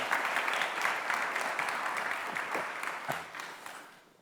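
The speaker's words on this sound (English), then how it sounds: "Can we get a round of applause for Karina, who's been doing such an amazing" A live audience applauds a programmer at a sessions event, a broad wash of clapping that holds steady near and fairly loud, then tapers toward the end.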